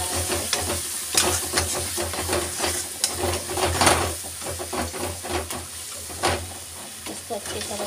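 Masala frying in oil in a pan for Shahi Paneer, giving a steady hissing sizzle with crackling pops and faint stirring throughout, close and moderately loud.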